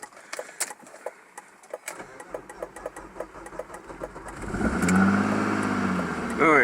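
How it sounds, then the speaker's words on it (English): A neglected BMW E36 project car cranks on a jump pack booster, starter churning briefly before the engine catches and rises into a loud, steady run at close range. "let's go ahead and crank this car up. See if it'll start."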